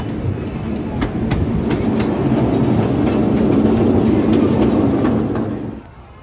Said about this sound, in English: The train has come to the complete stop.